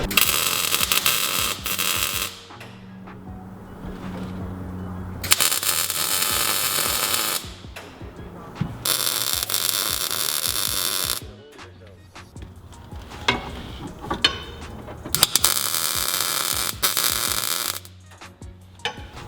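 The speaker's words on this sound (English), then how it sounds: "I'm gonna weld this in" A harness bar for a 240Z with a four-cylinder swap being welded in, with long bursts of harsh broadband crackle and buzz that start and stop several times, separated by short quieter pauses with background noise.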